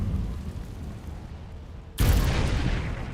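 The Confringo blasting spell in the game Hogwarts Legacy, a sudden loud blast that erupts after a low rumbling ambience and rolls on as a broad roar.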